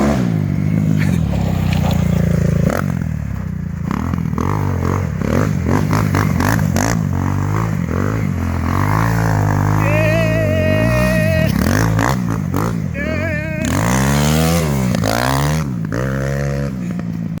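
A Crossfire CFR300 dirt bike engine revs hard while being ridden, rising and falling through repeated throttle blips and gear changes, loud and close, with rattling clatter throughout.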